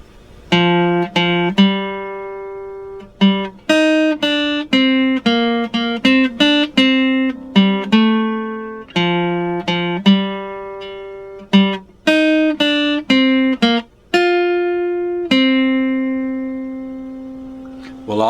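Guitar plays the bridge melody of the Star Wars theme, a clear sequence of plucked single notes with ringing sustain, some quick repeated notes and longer held ones, close and alone for about eighteen seconds.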